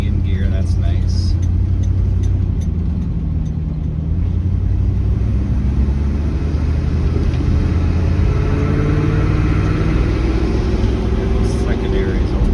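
Loud, steady engine drone from inside a 1979 Dodge D100 with an Edelbrock carburetor, accelerating as the secondaries open and shifting abruptly into third, with someone talking over it.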